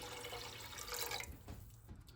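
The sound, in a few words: pouring water into pot for pickling brine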